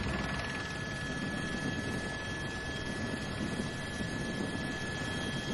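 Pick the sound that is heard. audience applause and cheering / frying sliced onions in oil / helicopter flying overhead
helicopter flying overhead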